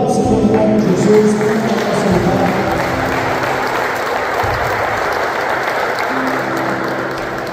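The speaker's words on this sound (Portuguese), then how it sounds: "aplauda o Senhor em nome de Jesus." A church congregation at a Sunday worship service applauds together, a steady wash of clapping at even volume throughout with a faint voice near the start.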